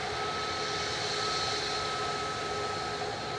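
An Airbus A321neo jet taking off at Manchester Airport, a steady distant engine roar with a faint tonal whine, continuous and unchanging.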